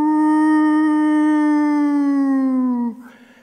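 A man imitates a wolf howl with his voice, a single loud sustained tone that holds steady for about three seconds, then drops and breaks off, heard alone outdoors while wildlife is being hunted.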